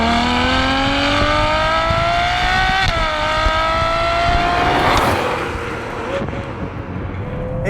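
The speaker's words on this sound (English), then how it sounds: "rear-wheel drive 800 brake horsepower V12 monster of a car" Ferrari 812 Superfast, a rear-wheel-drive 800 bhp V12, revs hard and climbs through the gears with a shift blip, loud and close, the howl easing off toward the end.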